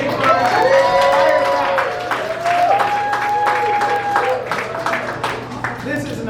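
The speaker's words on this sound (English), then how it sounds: "give a big round of applause to AAPI Victory" A rally crowd applauds steadily for several seconds, dense clapping and cheering close by, with a sustained tone and voices mixed in beneath.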